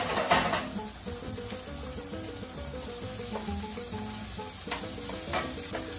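Chopped chicken breast sautés with garlic in a pan, giving a steady, close sizzle with light stirring scrapes and no talking.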